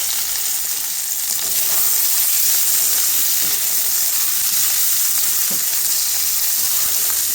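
Garlic and onion sauté in a hot pan over lowered heat, giving a steady, close sizzle with a constant hiss and a few faint clinks of stirring.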